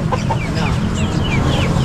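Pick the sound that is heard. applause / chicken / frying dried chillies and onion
chicken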